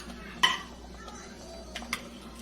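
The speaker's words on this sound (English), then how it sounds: "I'm just going to slowly add more and more and more into this, stirring it up." A spoon stirring a sugar mixture in a pot, with a sharp metallic clink at the start and a couple of lighter scrapes and taps after, close and quiet between strokes.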